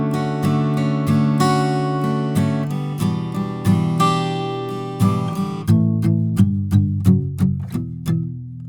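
Acoustic guitar plays the second line of chords from a song, with steady strums that are close and clear at first, then a series of sharper, more sparse picked accents, and no talk.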